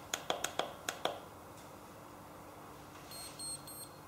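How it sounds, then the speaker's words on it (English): A galvanic facial device gives several quick, sharp contact beeps in a rapid cluster, then fades into quiet hum with a faint high electronic tone near the end. "we hear the beeps initially telling me that we have made contact and we're ready to begin"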